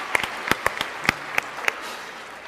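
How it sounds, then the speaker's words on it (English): An audience at a physics debate event claps for a speaker, though only a few sparse, scattered claps come through, fairly faint and short. "So I think we should all give him a round of applause."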